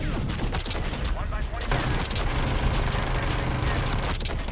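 Heavy gunship gunfire in the Black Ops 6 shooter rains down in dense, continuous bursts, loud and close, with overlapping booms that barely pause across the whole stretch.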